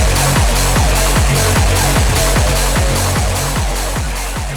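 An acid-style electronic track, pounding steadily with a heavy, evenly spaced kick under a thick wall of distorted noise, loud throughout and fading slightly at the end.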